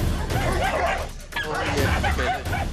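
Aggressive dog barking and yipping amid a noisy, busy scene, several dogs present, with other voices and commotion mixed in throughout.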